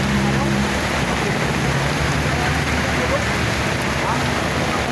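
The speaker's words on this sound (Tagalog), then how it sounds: "Lakas ng ulan, ha?" Heavy rain pours in a dense, constant hiss at Manila Bay, drumming close by on an umbrella.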